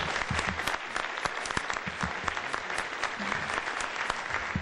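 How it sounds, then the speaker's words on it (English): Audience members at a USASBE entrepreneurship keynote clap steadily in a moderate, lively ovation that holds at an even level throughout. "Can we get a round of applause for..."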